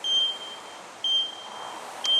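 A workout interval timer counts down with a short, high electronic beep about once a second over steady room hiss, three beeps in all.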